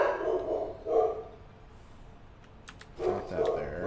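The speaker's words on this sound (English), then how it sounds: "Sorry for the puppy dogs barking." Puppies bark in a few short bursts, fairly near, with a quiet pause between the first barks and a later cluster of yips.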